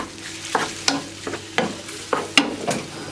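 Chicken pieces sizzle and crackle frying in a hot pan, with repeated scraping and stirring knocks at an irregular pace, close up and fairly loud.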